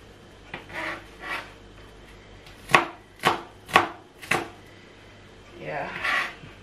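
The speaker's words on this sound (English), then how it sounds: "Then I continue chopping my onion." A knife chops onion on a board in four crisp, evenly spaced strokes, close up, framed by softer scraping and rubbing sounds before and after.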